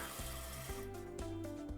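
A toilet tank refills as its float valve rises, water rushing and hissing steadily nearby with a rising tonal whine and periodic knocking pulses, no voices.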